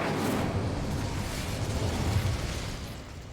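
Incendio fire spell cast in Hogwarts Legacy near a dragon, a sustained roaring burst of flame with rumbling low end, steady and loud before easing off at the end.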